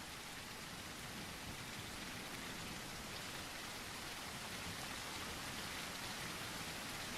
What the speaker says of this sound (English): From a clear blue sky, the rain falls here in Avroma.